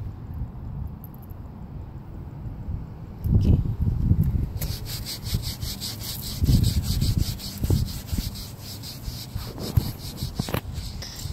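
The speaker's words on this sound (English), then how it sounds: "I also don't know how hard you're scrubbing." A cloth soaked with lemon oil rubs crayon marks off a car door, giving steady close scrubbing swishes with a few heavier strokes and some thumps along the way, and no voices.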